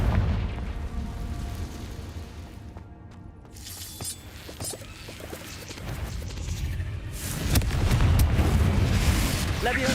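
Rumbling magical blast from the Confringo spell in the video game Hogwarts Legacy, a dense roaring burst that swells louder toward the end over a continuous low rumble.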